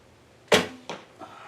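A 550 grain arrow is loosed from a 40-pound Wing Thunderbird bow: a sharp, loud release snap, then two fainter follow-up thuds fading out, with no voices.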